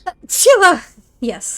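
A person lets out a sharp, close sneeze, a quick breathy burst followed by a voiced catch, set between snippets of casual talk.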